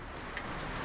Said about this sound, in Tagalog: Inaabot na kami ng ulan.